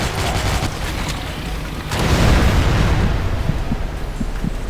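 Explosion in the zombie shooter game Dead Trigger 2, a loud rumbling blast that swells at about two seconds and stays dense amid continuous game noise and scattered pops, with no talking.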